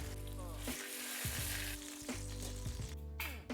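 Shio koji-marinated beef tenderloin sears loudly in a very hot pan, a dense close-up sizzle broken by repeated scraping and shifting of the meat.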